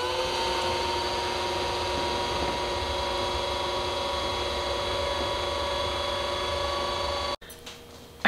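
A Bosch stand mixer works sourdough dough with a steady, whirring motor hum and rhythmic mechanical churning held close and continuous, cutting off abruptly near the end.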